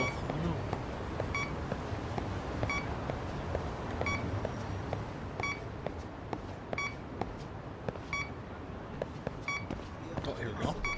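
Short electronic beeps from a phone in the Lost Judgment video game repeat at an even pace over quiet game ambience. Faint footsteps and a little speech sit underneath.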